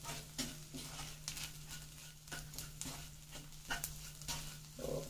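A spoon stirs small onions with spice powder in a pan while a Kerala-style small onion curry cooks. Repeated scraping strokes sound close and rhythmic over a faint sizzle and a low hum.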